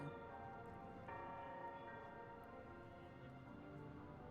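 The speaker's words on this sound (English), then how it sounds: "Where is that gong from?" A resonant gong from the video game Honkai: Star Rail rings with a sustained metallic tone that slowly decays, steady and moderately loud throughout with no voices over it.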